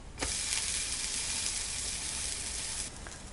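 Steady, loud hissing sizzle of an uthappam made with brown hand-pounded rice and small onions, frying in oil on a hot pan after being flipped, close and continuous before easing off near the end.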